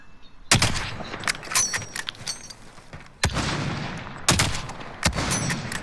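Video game gunfire comes in loud, sharp bursts, several single cracks and short volleys spread across a few seconds, some close and some farther off, with a faint rumbling bed beneath.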